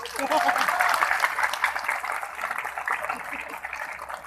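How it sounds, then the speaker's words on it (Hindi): Applause from a large crowd at the Latiya Mahotsav festival, steady rapid clapping that swells early, then gradually thins while carrying on through the whole stretch. "जोरदार ताली मिले एक बार।"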